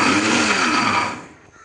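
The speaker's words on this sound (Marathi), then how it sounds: "थोडं खोबरंही घालते आहे, थोडं खोबरं वरती घालणार आहे। वाटून घेऊया। वाटण वाटून घेऊया।" Dry coconut spice paste ground in a kitchen mixer, a loud whirring roar close by that runs for over a second then winds down and stops.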